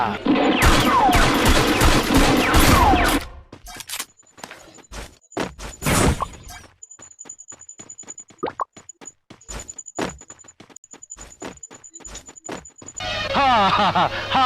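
Gunfire in the mobile battle game Free Fire comes as quick bursts of sharp shots and pops, with a thin electronic tone running between them. Voices talk loudly at the start and end.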